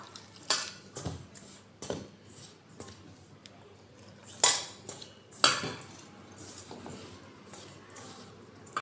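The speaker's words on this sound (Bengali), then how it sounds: "আমি ময়দাটা মেখে একটা লুচি পরোটার মতো ডো বানিয়ে নেব। অল্প অল্প জল দিয়ে মেখে নেব।" Flour dough for dalpuri is kneaded by hand with a little water in a bowl, giving irregular soft squishes and occasional knocks against the dish, close and fairly quiet.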